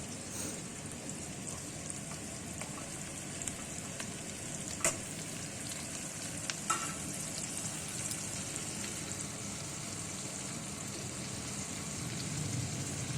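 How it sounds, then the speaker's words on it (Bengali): Chopped ridge gourd fries in a pan with a continuous soft sizzle and faint stirring, with a couple of brief clicks along the way. "এবার আমি দিয়ে দেবো কেটে রাখা ঝিঙেগুলো।"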